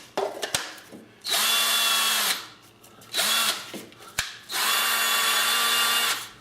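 Cordless battery drill run off a mains power pack in a shop: short clicks and trigger taps, then two long, loud, high-pitched whirring runs of about a second and two seconds, each spinning up and down, with no talking.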